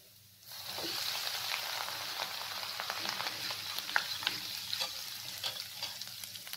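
Homemade hair oil in a pan, stirred with a stick: steady bubbling sizzle with light scraping and scattered crackles. It runs on without a break after a quiet start.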